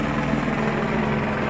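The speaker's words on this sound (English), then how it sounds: "Look at that helicopter chasing down, looking for a criminal." A police helicopter searching for a criminal flies low overhead, its rotor and engine a steady loud throbbing roar that fills the whole moment with no voices.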